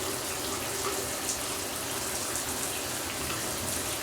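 Running tap water steadily splashes over a washcloth being rinsed and soaked before wiping a bulldog, a continuous close hiss of flowing water with no talk.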